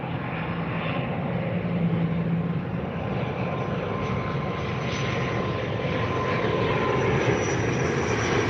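A landing airliner at Dublin Airport gives a steady, broad engine roar with a faint high whine. It holds an even loudness throughout, heard from a distance and without voices.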